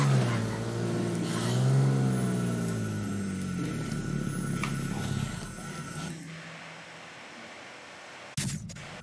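A car drives in Dead Rising 2 Off The Record, its engine tone rising and falling with gear shifts under a steady rushing noise. The engine cuts out abruptly near the end, followed by a short sharp knock.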